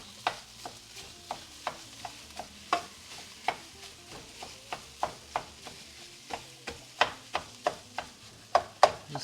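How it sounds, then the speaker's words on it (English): Sausage and jalapenos sauté in a pan with a soft sizzle under repeated sharp taps and scrapes of a utensil chopping and stirring, close and rhythmic. "Jalapenos in. Lightly saute. Get that sausage in."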